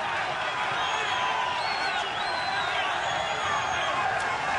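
A boxing arena crowd roars steadily through the final minutes of the 12th and last round of a 2009 championship fight. The dense cheering holds at an even level from start to finish, with occasional whistles rising above it.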